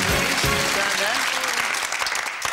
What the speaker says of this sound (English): Round of applause for Denise as she joins me!